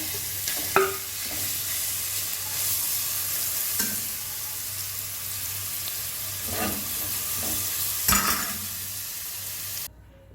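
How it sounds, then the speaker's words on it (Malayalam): Carrot pieces fry for Malabar-style ghee rice in a constant close hiss, with occasional stirring scrapes and taps before it cuts off abruptly at the end. "ഇതിലേക്ക് നമുക്ക് ഈ ക്യാരറ്റ് കൂടി ഇട്ട് വറുത്ത് പോരാം."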